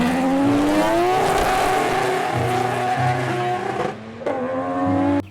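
A toy race car gives off a loud, continuous engine-like whine that rises in pitch, then cuts out briefly near the end before returning.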